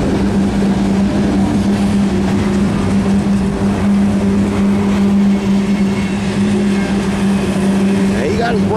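A CSX Q491 manifest freight train rolls past at close range with its brakes applied, giving a loud, steady rumble and a sustained whining tone that continues throughout.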